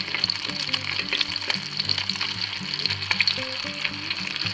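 Crispy cheesy chicken ranch patties sizzle in a frying pan with a steady, bright hiss and small pops, close and continuous, over faint background music.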